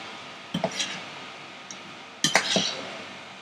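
A utensil stirs soya meatballs and potatoes in a pan, producing a few clinking metal scrapes and taps in two short bursts over a quiet background.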